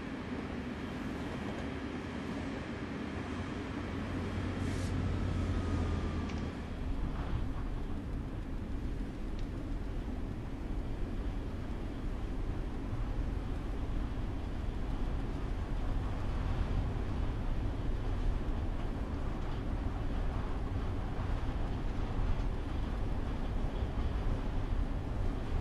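A northbound train rumbles past in the Antelope Valley route of Train Sim World 4, a steady heavy roar of wheels and rail noise that swells early and then holds loud and continuous for the whole stretch.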